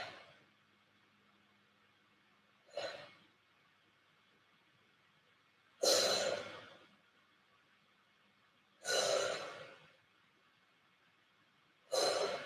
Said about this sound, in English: 5 breaths.